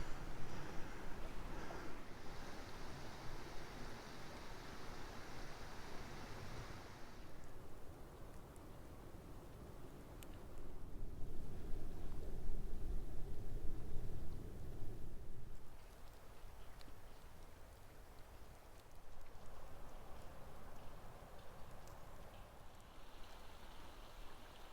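A creek running high and fast after a storm on a hiking trail in Alabama, a steady broadband rush of water close by that swells louder through the middle, with no talk over it.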